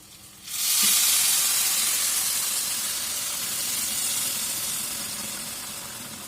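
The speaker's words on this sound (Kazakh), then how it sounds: "Енді 2 кесе күрішімізге 4 кесе су құямыз." Water poured into a pot of fried rice for Kazakh palau, bursting into a loud steady sizzle and hiss of steam that holds, then slowly eases.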